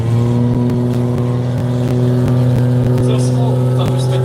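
GTR drag car doing a burnout at the Garrett Brisbane Jamboree in Willowbank, a loud, steady high-revving engine drone with screeching tyres, heard up close with a commentator talking over it.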